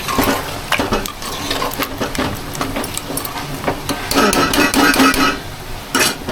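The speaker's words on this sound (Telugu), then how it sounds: "వాటరు వేసుకొని ఇప్పుడు కలుపుకుందాం బాగా" Chicken curry being stirred in a pot after water is added, with repeated scraping and clinking of a spoon against the pan and some sloshing liquid, fairly loud and close, with no talking.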